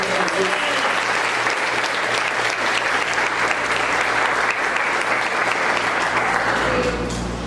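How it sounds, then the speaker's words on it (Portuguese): A church congregation breaks into sustained applause, loud and dense from start to finish, with a few voices mixed in before the clapping thins out at the very end. "Dá uma salva de palmas, se Jesus Senhor"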